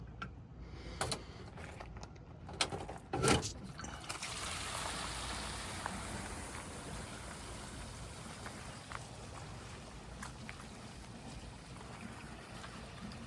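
An RV black tank holding about 25 gallons drains through a sloped RhinoEXTREME sewer hose. A lever clicks first, then a steady, moderately faint trickling flow of water continues throughout.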